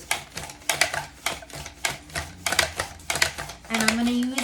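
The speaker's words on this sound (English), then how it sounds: "We're gonna cut all these up to super, super thin" Rapid knife cuts slicing Kirby cucumbers super thin on a cutting board, a quick run of crisp, evenly spaced chops, close and fairly loud, with a person talking in between.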